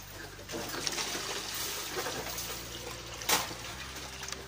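Water pours and trickles into a homemade coin-operated water dispenser machine under construction, a steady splashing flow running throughout with a brief louder burst near the end.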